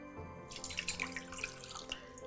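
Water runs steadily from a tap into a cooking pot as the base for caramel for candy apples, a continuous close splashing pour lasting a couple of seconds with no talking.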